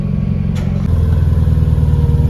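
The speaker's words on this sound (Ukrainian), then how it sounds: "Наступний виїжджає Янмар КЕ4, трактор потужністю" A 1996 Yanmar KE4 compact tractor of 14.5 horsepower drives out, its small diesel engine chugging steadily and loudly at close range, with a slight lift in pitch partway through.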